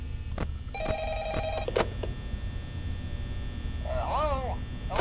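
A telephone rings in the video game Five Nights at Freddy's: short electronic ring bursts sound under a low hum, with a warbling tone toward the end.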